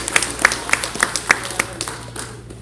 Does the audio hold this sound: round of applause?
yes